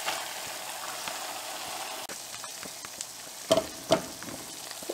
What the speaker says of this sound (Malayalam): എന്നിട്ട് ഇത് നന്നായി ഒന്നും കൂടി ഇളക്കി കൊടുക്കുക. എല്ലാം കൂടി മിക്സായിട്ട് വരട്ടെ.